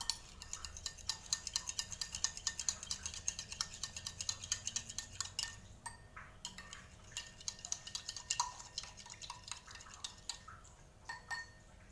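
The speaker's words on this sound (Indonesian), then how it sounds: "Kemudian setelah itu kita lakukan pengadukan hingga homogen." A spoon clinks and scrapes rapidly against a glass, stirring a lab enzyme (pancreatic lipase) mixture in a steady rhythm, close and fairly quiet, with a few pauses.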